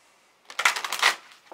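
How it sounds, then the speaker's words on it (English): A deck of 45 game cards for the Escape the Dark Castle board game being riffle shuffled, a quick close burst of fluttering card flaps lasting about a second, followed by a brief second rustle. "So we're going to go ahead and shuffle them at least 7 times."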